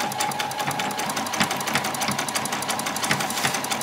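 A domestic sewing machine runs a zigzag stitch straight across fabric for a doll's dress, a steady close, loud mechanical whir with rapid regular needle ticks and no pauses.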